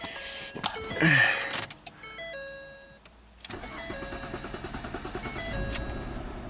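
A car engine cranks and fires up after fuel injector work, preceded by a whirring electric motor and rising to a steady idle; close and fairly loud, no talking.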